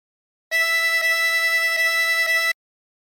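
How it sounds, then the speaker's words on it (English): Harmonica blown into hole 5 four times, a steady reedy tone pulsing in four even breaths, loud and close with no talking. "For phrase 2, blow into 5 4 times."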